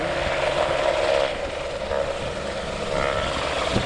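Loud, steady helicopter rotor and engine roar over Kruger National Park, close by and continuous, with no talking.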